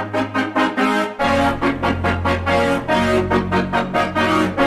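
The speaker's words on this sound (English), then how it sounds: "Then we're adding in a double bass." A double bass joins the brass and chord arrangement of a song, a steady low tone under repeated brassy stabs, loud and continuous, with no talking.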